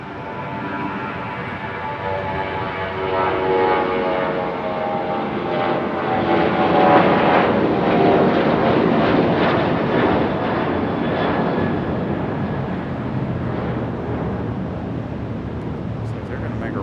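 A United airliner takes off from runway 23 right at Raleigh-Durham, its engine roar building and holding steady and loud throughout, with a voice talking over it.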